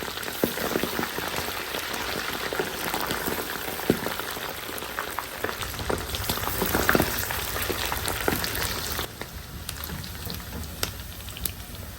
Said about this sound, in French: Chauffez l'huile rouge dans la casserole placée sur feu moyen.